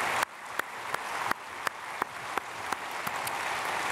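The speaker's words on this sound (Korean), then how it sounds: "우리 박수로 축복하겠습니다." A congregation claps together in a church during Sunday worship, a steady wash of applause with a few sharper claps standing out at regular intervals across the few seconds.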